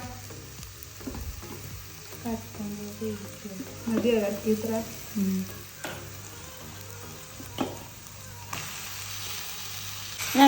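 Spices and masala for a chicken curry fry in a pan with a steady sizzle and occasional stirring scrapes, while a person speaks briefly over the cooking.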